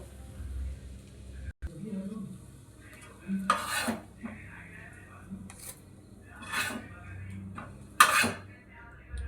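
A spoon scrapes and clatters in a pan as cooked, dried green pea filling for kachori is lifted out, giving a few short metallic scrapes over faint kitchen background noise.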